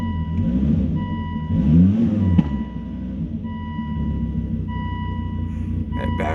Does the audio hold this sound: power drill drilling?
no